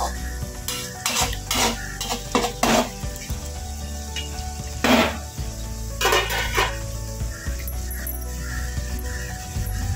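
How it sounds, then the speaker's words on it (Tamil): Capsicum and potato thokku simmers in a pan while a spoon stirs and scrapes through it, a soft steady sizzle under repeated close scraping strokes, with no talking. "அது அப்படியே சிம்மில் வச்சு நல்லா வெந்து கிரேவி மாதிரி வந்த உடனே எடுத்துடணும்"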